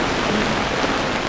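Heavy rain pours down on a sailing boat during a windy storm, a steady dense hiss that fills the whole moment with no voices.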